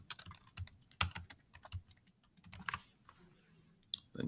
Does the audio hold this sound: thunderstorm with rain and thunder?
no